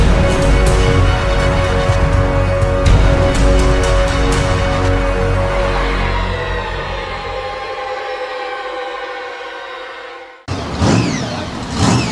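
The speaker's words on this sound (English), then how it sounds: "Motors roar to what's left of the sunset here at the Warren County Fairgrounds at Front Royal, Virginia" Monster truck engines roaring at a freestyle show at the Warren County Fairgrounds in Front Royal, Virginia, a loud sustained rumble and revving that fades away, then a sudden burst of noise returns near the end.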